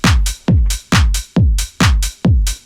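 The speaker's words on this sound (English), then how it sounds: "so the drums sound like this" A punchy electronic tech house drum loop: heavy kicks alternating with bright snare or clap hits in a steady, driving rhythm, loud and up front.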